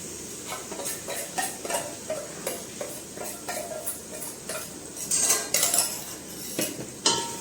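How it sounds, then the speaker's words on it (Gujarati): Utensils scrape and clink rhythmically against a pan as a prepared spice mix is worked into a cooking paste for a sprouted moong dish, steady metallic taps with a faint sizzle underneath. "હવે આપણે જે મસાલો બનાવીને રાખેલો છે એ નાખી દઈશું"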